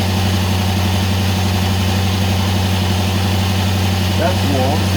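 Ford XD Falcon V8 on fast idle with a choke problem, a steady, loud, even rumble with constant mechanical hum close to the microphone, unchanging throughout.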